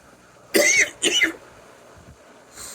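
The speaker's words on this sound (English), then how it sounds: "I've got a fucking cough." Two sharp coughs in quick succession, close and loud, followed by quiet breathing and the start of another cough.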